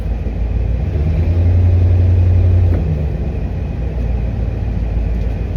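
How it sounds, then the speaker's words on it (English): A used box truck's engine rumbles loudly and steadily from inside the cab while driving, with a low droning swell that eases back to a constant hum. "I have a new box truck that hopefully will last me a few years"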